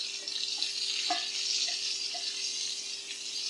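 Scallops frying in grease in a pan, a steady broadband sizzle holding evenly throughout with a few faint ticks and pops, close and alone with no voices.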